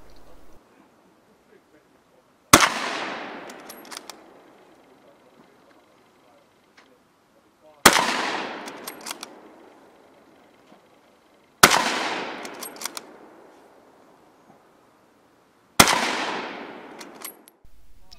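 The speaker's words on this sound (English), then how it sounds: "And here is a Mauser 98K shooting." Four loud, sharp shots ring out from a Mauser 98K rifle at a Winter War commemorative shooting competition, spaced several seconds apart, each with a long echoing decay fading into quiet.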